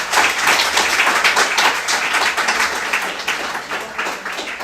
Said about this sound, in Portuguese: Você dê uma salva de palmas ao Senhor